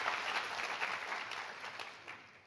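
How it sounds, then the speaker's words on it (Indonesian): A congregation at an Indonesian-language church anniversary service claps in a dense wash of applause, steady at first and slowly thinning out, with a roomy, slightly distant sound. "Mana tepuk tangannya buat Tuhan?"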